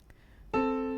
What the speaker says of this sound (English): The other one would be the A plus the C that is below it